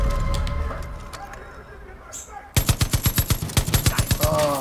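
Automatic gunfire in the video game Far Cry 5, a loud rapid burst of evenly spaced shots after a quieter stretch of ambient game noise.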